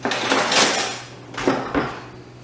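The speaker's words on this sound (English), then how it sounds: "Excuse me, Mike, I just need to get a spoon for the rice." Metal cutlery clatters and clinks in a kitchen as a serving spoon is fetched for rice, a close, busy jangle followed by two sharper knocks.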